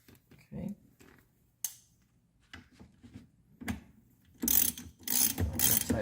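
A ratchet tightens the steering wheel bolt on a 2014-19 Chevrolet Corvette C7 during a carbon fiber wheel install, with short clicks and fumbling at first, then a quick, close, loud run of ratcheting bursts.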